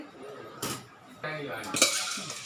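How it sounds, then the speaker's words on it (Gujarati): Seasoned puffed rice for bhel tumbles into a metal pot in two brief rustling, clinking bursts, moderately close, with faint kitchen noise between them and no talk. "આપણે તપેલી લેશું એની અંદર વઘારેલા મમરા નાખીશું"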